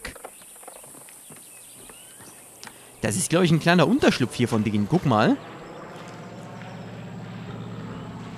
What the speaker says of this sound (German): Unser Pferd ist dabei im Wasser.